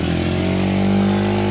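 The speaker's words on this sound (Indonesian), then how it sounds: "Selamat kepada Bapak Herman yang bisa menghidupkan mesin" A motorcycle engine, stalled in the rain and now restarted in a rural village, runs loud and steady close by in a continuous rough drone with no talking.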